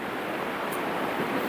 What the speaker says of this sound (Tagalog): Yung kusog ang hangin na po.